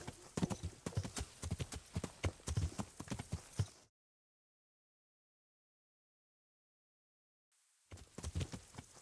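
Horse hooves clip-clop steadily in the video game Kingdom Come: Deliverance, a brisk close rhythm that cuts to silence partway through, then resumes.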